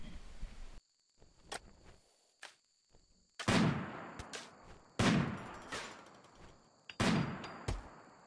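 Bursts of gunfire from a RimWorld battle crack out in three loud volleys, each a sharp blast trailed by scattered quieter shots, with softer isolated pops and a faint high insect-like whine in between.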